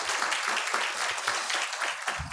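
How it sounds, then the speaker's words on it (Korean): Audience applause at the close of a lecture to a parents' education meeting on restorative schools, dense steady clapping from many hands filling the room at an even level from start to finish. "다시 한번 박수를 드리겠습니다"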